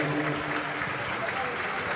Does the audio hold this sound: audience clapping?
yes